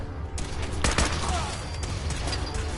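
Gunners open fire in the video game Fallout 4: a few sharp shots crack out in quick succession over a steady background rumble.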